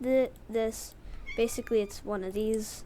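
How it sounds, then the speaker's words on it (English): A pet cat meows repeatedly in drawn-out, rising calls close by, overlapping a man's speech. "You might be able to hear my cat right now."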